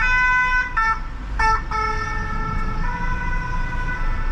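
Emergency siren of a fire brigade or SAMU ambulance passing through a narrow, rainy Marseille street, its steady harmonic wail loud and close, alternating tones with a short break near the middle, over low traffic rumble.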